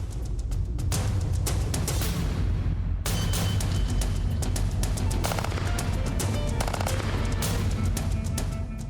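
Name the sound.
FN P90 submachine gun firing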